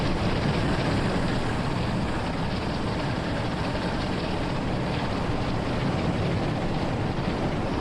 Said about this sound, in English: There we go, some proper BR Blue diesel power.